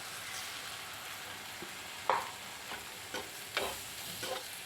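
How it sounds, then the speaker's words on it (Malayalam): Bitter gourd theeyal, a Kerala curry, sizzles gently in the pan after a splash of water, broken by several soft scraping stirs at irregular intervals, with no talking. "ഒരല്പം വെള്ളം ഒന്ന് ഒഴിച്ചു കൊടുക്കാം"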